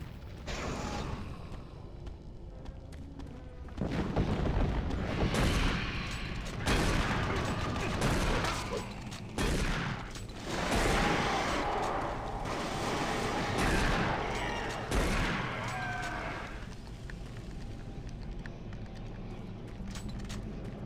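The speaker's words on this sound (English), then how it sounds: "the shotgun in this game is really, really good" Shotgun blasts ring out in the video game Doom 3, several heavy booming shots spaced a second or two apart, loud and close, amid mechanical clanks and rumbling in-game ambience.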